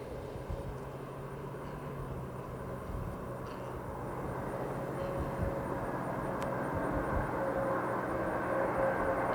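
Space Shuttle Discovery's main landing gear touching down on the runway at the close of a spaceflight, heard as a steady, broad roar of rushing air and rumble that grows slightly louder over time, with no distinct impact.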